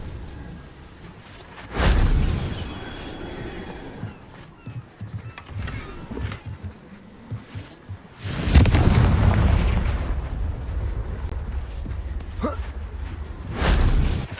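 Spell explosions from the fire-blast Confringo in the wizarding game Hogwarts Legacy: a loud burst near two seconds, a bigger boom around eight and a half seconds with a long rumbling decay, and another burst at the end, with quieter clatter between.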